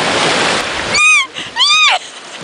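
Sea surf breaking on a shore on the Isle of Mull gives a steady, rushing wash for about a second, then drops back as two high, squealing calls rise over it.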